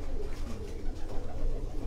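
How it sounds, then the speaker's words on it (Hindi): A racing pigeon bred for competitive flying in Lahore coos softly in a loft, low murmuring calls repeating under faint background noise, close but quiet, with no talk over it. "ये कबूतर देखिए, ये देखो है कबूतर"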